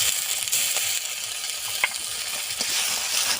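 Onion, ginger and garlic paste fry in a pan with a steady, bright sizzle, broken by a few soft scrapes and clinks of stirring, close and alone without talk.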